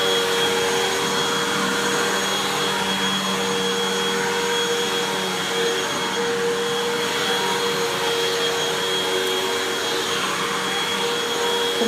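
Vacuum cleaner, a Hoover WindTunnel or Dyson DC33, running over hallway carpet with a loud, continuous close whine and roar that stays steady throughout.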